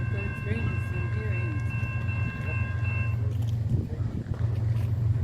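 A CSX freight train rumbles through downtown Fostoria, Ohio, a low steady roar with a sustained horn tone in the first few seconds, heard from nearby, with a voice speaking over it.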